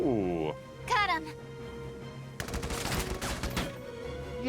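Gunfire in the Valkyria Chronicles 4 video game, a dense burst of rapid shots lasting a couple of seconds amid game sounds, with a voice talking over it.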